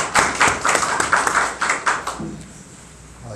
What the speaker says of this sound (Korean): 하나님께 영광의 박수를 드리도록 하겠습니다.